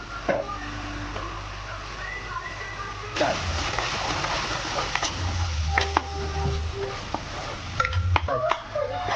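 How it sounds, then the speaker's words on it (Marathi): Tomato sautés in an egg curry gravy in a pan, a continuous near sizzle with scattered clinks and scrapes of stirring throughout. "त्याच्यामध्ये थोडंसं टमाटर घालूया."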